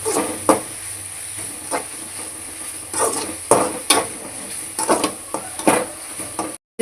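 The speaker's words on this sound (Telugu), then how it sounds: "పచ్చివాసన పోయిన దాకా కొంచెం గెంటితో కలిపెడతా ఉన్నాను" Chicken curry masala stirred in a pan with a spatula, giving a steady sizzling hiss broken by repeated scraping strokes, close and moderately loud, with no talking.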